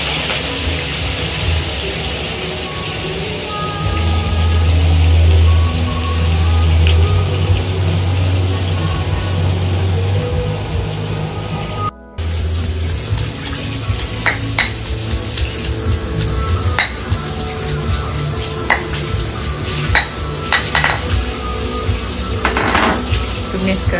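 Ikan bilis (anchovies) frying in a pan, a steady close sizzle with occasional stirring scrapes and clinks, joined by a low hum from about four to eleven seconds; a brief dropout midway, and no talk over the frying.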